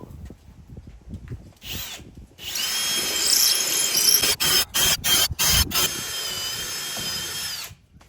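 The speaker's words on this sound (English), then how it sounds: "drilling into this post here, it seems a whole lot softer than drilling into that post over there" A power drill whines loudly into a wooden porch post, revving in a long steady run broken by several brief stops and restarts, with a high squealing tone.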